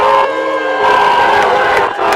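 Fans at a CIF-SS high school baseball game, Crescenta Valley at Arcadia, keep up loud, continuous booing, a dense mass of voices that holds steady with brief dips.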